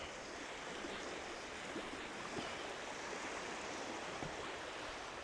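Steady wash of water waves, a constant broadband surf hiss that stays even and unbroken throughout, moderately loud with no voices.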